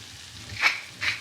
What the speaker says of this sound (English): I'm just sauteing this together with a little bit of salt and pepper